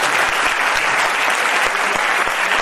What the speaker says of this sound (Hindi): शाबाश शाबाश, जोरदार तालियां बजाइए भाई